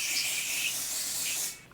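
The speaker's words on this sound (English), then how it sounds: "I want to add a little bit of spray." Hair spray hisses from an aerosol can in one continuous burst of just over a second, close and soft, then cuts off abruptly.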